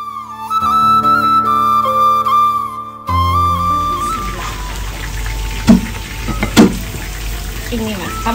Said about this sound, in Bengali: এখন এগুলোও ভাজা স্টার্ট করে